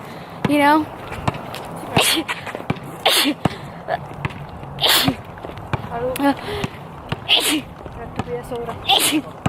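Repeated sneezes in a casual vlog setting, several sharp, close bursts spread at irregular intervals, with brief talk and rustling in between.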